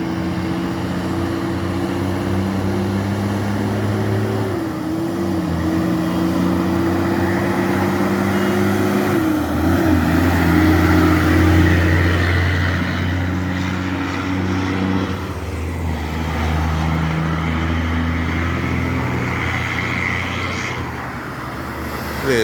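Heavy truck hauling along a Jamaican highway, a loud continuous engine drone whose pitch drops and climbs through several smooth gear shifts, with road noise underneath and no talking.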